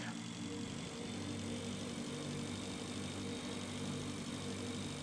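A small bike engine running steadily in the space survival game Breathedge, a continuous mid-pitched mechanical drone with a dense hissing wash, unchanging and constant throughout.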